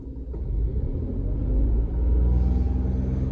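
A Tata Nexon engine revs, heard from inside the cabin as a deep, steady rumble that swells and holds with a faint vibrating buzz.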